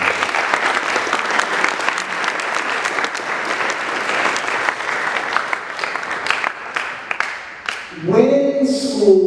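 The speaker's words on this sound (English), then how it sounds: "I think they deserve a round of applause." A graduation ceremony audience bursts into dense, loud applause that rolls on for about eight seconds. The clapping then tapers off as a voice comes in at the end.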